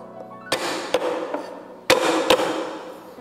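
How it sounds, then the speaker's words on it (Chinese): A small piece of ginger struck hard with a cleaver on a cutting board, four sharp loud whacks arriving in two close pairs, each with a brief ringing tail. "再拍上一小块的姜啊"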